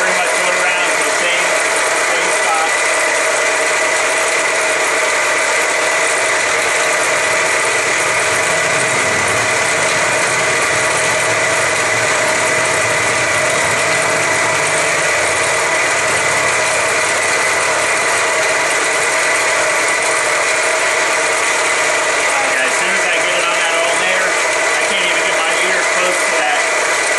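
A car engine idling under the hood: a steady, continuous mechanical hum and whir with a faint high whine, close and constant throughout with no pauses.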